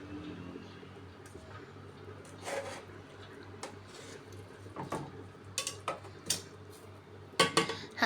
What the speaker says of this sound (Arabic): انا كده جبت الطاجن وهبتدي اطلع الفراخ